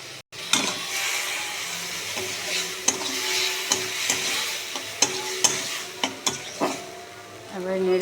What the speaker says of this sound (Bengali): এবারে নেড়ে চেড়ে ভালোভাবে একটু কষে নেব।